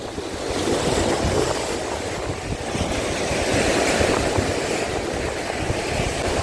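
Steady roar of sea waves breaking on a beach in Odesa, with strong wind buffeting the microphone throughout, loud and continuous, no voices.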